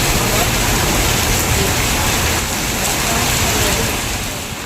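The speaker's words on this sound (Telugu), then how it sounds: "బట్ వర్షంలో ఇరుక్కుపోయామన్నమాట" Rain falls in a steady, dense hiss close by, loud and unbroken throughout, with no other clear sounds standing out.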